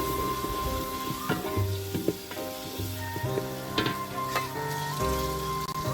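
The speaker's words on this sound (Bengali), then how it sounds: "তেল গরম হওয়ার পর তেলের মধ্যে দিয়ে দিলাম টমেটো কুচি" Chopped tomato fries in hot oil in a village kitchen, giving a steady, close sizzle with stirring and scraping sounds throughout.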